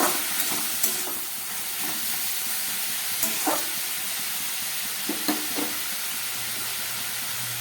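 Snake gourd pieces fry in a pan with a dense, steady hiss and sizzle, close and fairly loud, broken by a few soft clicks of stirring and a low hum near the end.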